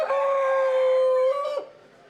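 A rooster at a poultry competition crows once, a long sustained loud call with a falling end, close and alone, followed by quiet.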